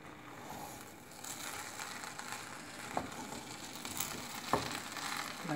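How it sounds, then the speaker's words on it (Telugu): Chicken biryani mixed with mango pickle being stirred in a pot, a faint soft sizzle with occasional scraping and light knocks of the spoon against the vessel. "ఇప్పుడు మనం ఒకసారి ఇలా కలిపేసుకొని"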